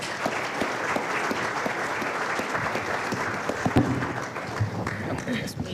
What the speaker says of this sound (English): let's give a round of applause this morning for Tricia Siliberto